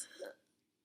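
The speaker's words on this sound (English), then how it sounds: "We've almost went 2 minutes of just constant burping." A single short, fairly loud burp from a boy during a burping contest, fading quickly into quiet.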